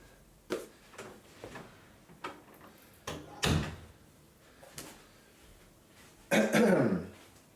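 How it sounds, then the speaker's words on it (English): A room door being shut, with several soft knocks and clicks leading up to a louder latch thud near the end, close by, with no one speaking. "also close the door so that I'm not too loud"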